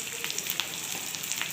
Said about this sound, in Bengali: দেখো পেঁয়াজটা আমি ভেজে নিলাম, ভালোভাবে ভাজা হয়ে যাচ্ছে